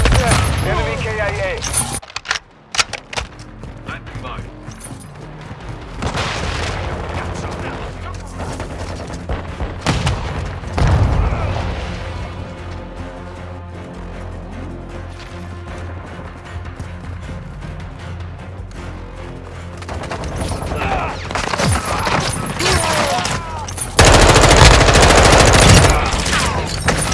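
Dense, continuous gunfire in Call of Duty Modern Warfare: rapid automatic bursts and heavy booms stack into a loud, steady barrage, with voices talking over the shooting throughout.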